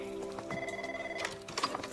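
A telephone rings in a comedy film scene, a steady warbling tone heard under a voice speaking, with a brief exclamation as it ends.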